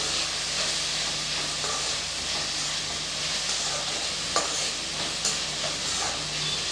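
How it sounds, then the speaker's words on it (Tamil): Chana masala with cashews sautés in a pan, a steady broad sizzle and hiss with occasional stirring scrapes, close and continuous with no talking. "இது நல்லா வதங்கிட்டு இருக்கட்டும்"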